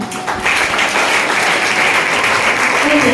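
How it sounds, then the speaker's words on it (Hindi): An audience at a business planning seminar bursts into applause, a dense, steady clapping that holds at full strength for the whole stretch and grows slightly louder toward the end. "सब लोग ताली बजाए"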